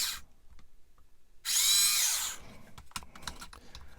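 A small power drill bores a hole in a scale model kit part in one loud, high whine lasting about a second, followed by faint clicks and handling taps in an otherwise quiet room.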